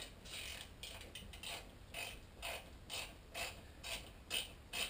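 Screwdriver turning a No. 6 by 1/2 inch flathead stainless steel screw into a teardrop trailer build, giving a close series of rhythmic ratcheting clicks and scraping twists in regular bursts with no talk.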